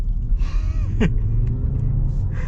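A smooth electric whir rises as a 2022 Jaguar I-Pace HSE EV400 electric car accelerates over a steady low rumble, with a brief upward sweep near the middle.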